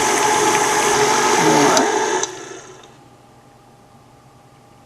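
An electric mixer beating cream cheese and butter, a loud steady whirring motor that runs for about two seconds, then winds down and stops, leaving near silence; a voice briefly speaks.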